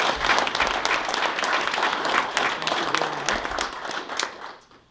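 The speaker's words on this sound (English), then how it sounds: "Let's give our elected officials a round of applause." An audience at a chamber of commerce legislative breakfast gives elected officials a sustained round of applause, dense and fairly loud, fading out at the end.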